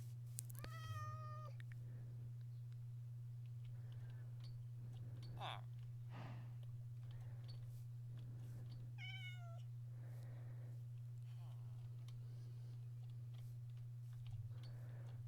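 Minecraft cats meowing in a video game, two distinct synthetic meows roughly eight seconds apart, over a constant low hum with faint clicks and scattered soft sounds.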